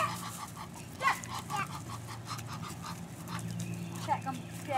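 Ducks quack while being fed, a close, busy run of repeated nasal calls over a low background rumble, with a person's voice speaking now and then.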